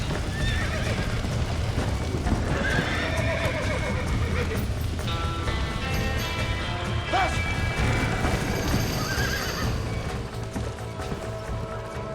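Horses neigh loudly several times over the rapid clip-clop of galloping hooves, with crashes and commotion mixed in, in a Red Dead Redemption gameplay scene.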